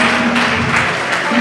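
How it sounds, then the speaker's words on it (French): Applause from the audience at a Génie en Herbe quiz event at ISEP de Thiès, honoring the student collective president; a dense, steady wash of clapping for about a second and a half, with a faint sustained tone underneath. "J'aimerais que vous applaudissiez M. Mandi"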